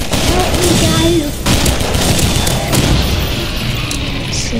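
Rapid gunfire crackles in a desert battle in Garry's Mod, with dense, continuous shots and impacts that run unbroken throughout, loud and close.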